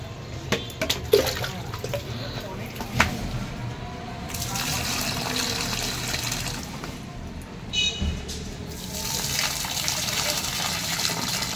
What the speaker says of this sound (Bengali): চলো গাছে জল দেওয়া কাজ তো দিয়ে দিই